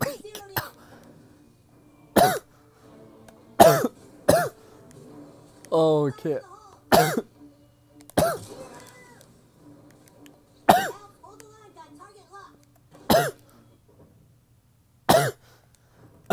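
About nine sharp, separate coughs, some with throat clearing, come at uneven intervals during play of South Park: The Stick of Truth, and a voice speaks briefly between them.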